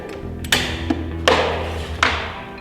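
A boat tie-down strap buckle is released with a few sharp mechanical clacks and thumps, close and fairly loud over a steady low hum.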